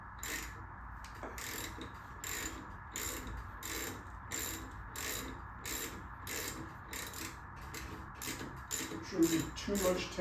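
A socket ratchet fitted with an Allen bit works the lower bolt of a rear shock on a shovelhead motorcycle, about a dozen evenly spaced ratcheting clicks, close over faint background noise.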